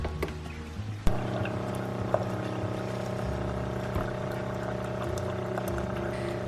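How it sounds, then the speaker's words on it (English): A K-Cup coffee maker brews dark chocolate hazelnut coffee, a steady low motorized hum and pumping gurgle that starts with a click and runs continuously, with small clicks and bubbling over the drone. "And while that is working, I am going to make some coffee."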